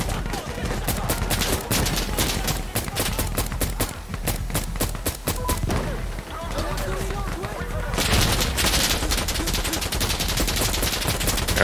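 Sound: gunfire in video game Insurgency Sandstorm at night

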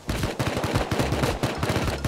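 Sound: gunfire in the video game Rust

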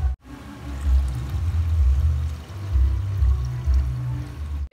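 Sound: water poured over seasoned meat in a pot to cook

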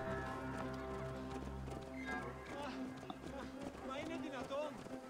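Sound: horse galloping in a video game

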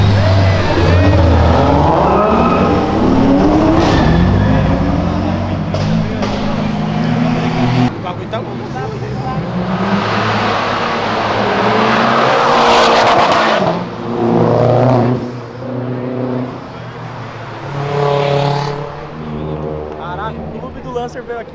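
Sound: Volkswagen Golf GTI and Honda Civic Si turbo engines revving

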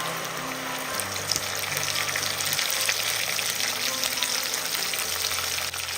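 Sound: amla paste added to frying garlic and green chilli

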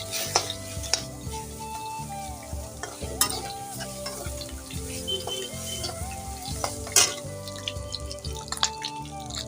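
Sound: cumin and mustard seeds sizzling in hot oil

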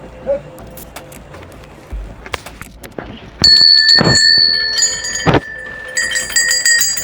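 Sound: bells ringing at shrine

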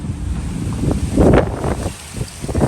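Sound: storm wind

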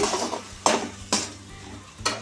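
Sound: stirring and mixing the paste in a pan for coconut pulihora

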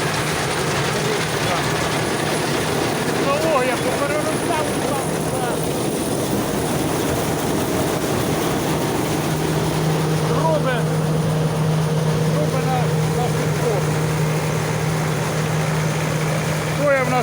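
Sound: engine of a 1976 combine harvester

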